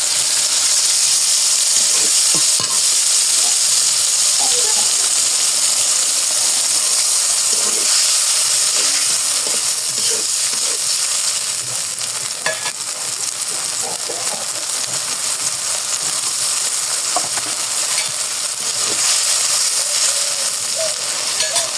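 Green chili and ginger paste frying in hot oil, a steady close sizzle and hiss running throughout with small pops and crackles, no talking over it.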